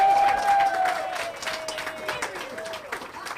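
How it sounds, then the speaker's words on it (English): An audience at a ribbon-cutting event applauding: loud, dense clapping and crowd noise that gradually thins, while a voice speaks over it. "give a big round of applause for Gary McCullum from Cox Communications."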